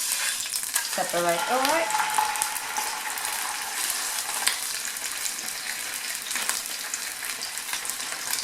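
A salmon fillet fries in hot oil with a loud, steady sizzle that carries through to the end, and a voice speaks briefly over it early on.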